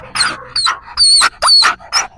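A dog whining during obedience training, with five short, high-pitched whimpers in quick succession, close and clear with no talking.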